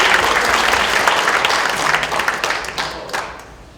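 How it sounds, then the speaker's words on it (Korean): Loud, dense applause from guests at a book launch talk concert, strong at first and gradually thinning and fading toward the end. "큰 박수 부탁드리겠습니다."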